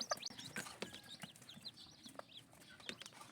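Pet chickens and chicks clucking and peeping together, a busy cluster of soft clucks and high chirps, fairly faint and close, with no talking.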